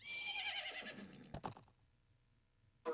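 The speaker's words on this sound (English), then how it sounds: "Isn't that your horse?" A horse in the video game Zelda: Majora's Mask gives a long, loud whinny that tapers off, followed by a short thump and a brief second whinny fragment near the end, with no talk.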